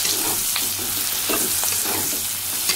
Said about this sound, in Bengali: পেঁয়াজটাও ভাজা ভাজা হয়ে যাচ্ছে।